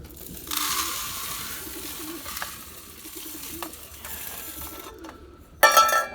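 Pigeons gathered at feeding time over a seed mix, giving soft cooing amid steady rustling and scratching, with a sudden louder burst of activity near the end; no one speaks.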